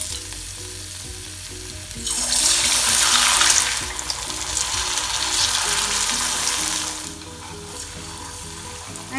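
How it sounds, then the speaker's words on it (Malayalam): Kerala-style onion vada fritters drop into hot oil for deep-frying, bursting into a loud, close sizzle that swells, holds for several seconds and then settles to a softer bubbling, with no voices. "അപ്പോൾ ഫ്ലെയിം ഒന്ന് കുറച്ച് വെച്ച ശേഷം നമുക്കിനി ഓരോ വടയും ഫ്രൈ ചെയ്തെടുക്കാം."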